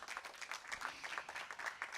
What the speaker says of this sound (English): can we have a huge round of applause for him, please?